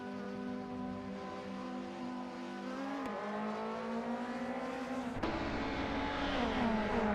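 AI-driven WTCC touring race cars in a video game at Watkins Glen, engines droning steadily at high revs with shifting pitch as the cars hold speed, a couple of sharp gear changes cutting through the continuous roar.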